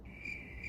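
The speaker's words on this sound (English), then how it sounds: "Crickets." A cricket sound effect gives one steady, high, trilling chirp, faint and brief, with nothing else around it.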